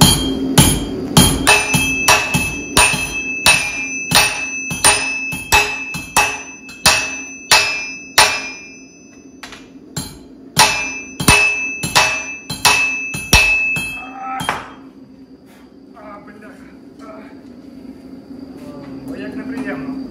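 Rhythmic ringing blows of a medium sledgehammer, about two kilograms, striking hot metal on an anvil while forging a cleaver-type blade in a smithy, loud and close, around twenty strikes in a steady cadence, then quieter shuffling and low background hum.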